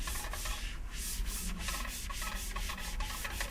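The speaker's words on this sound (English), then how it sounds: "I'm going to wipe off the table." Rhythmic rubbing of a cloth across a table surface, close and steady, repeating back and forth strokes without any talking.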